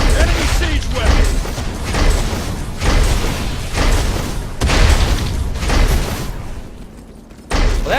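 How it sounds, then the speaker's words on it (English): Enemy siege weapon firing in the video game Savage: Resurrection, heavy booming blasts and crashes repeating every second or so over constant battle noise, with a voice talking at times. "Enemy siege weapon."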